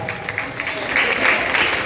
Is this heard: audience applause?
yes